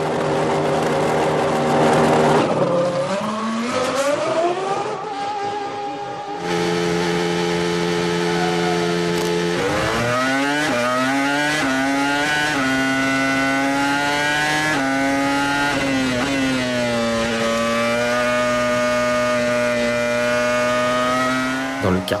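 Formula 1 cars at the 2005 French Grand Prix, loud high-pitched engines screaming past in sustained, shifting whines, with gear changes and overlapping cars at close range throughout.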